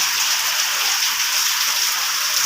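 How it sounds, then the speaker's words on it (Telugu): Heavy rain pours down at night in Hyderabad during a wind-driven storm, a dense, unbroken hiss of falling water that stays loud and even throughout. "ఇవాళ హైదరాబాద్లో ఈ టైంకి ఘోరంగా వర్షం పడుతుంది."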